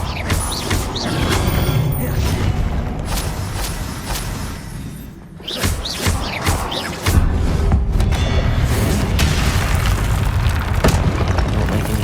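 Explosive blasting spell cast in Hogwarts Legacy on PS5, a string of loud booming blasts and crashing impacts with mechanical rumbles, a brief dip midway, then a heavier sustained burst of rumbling destruction.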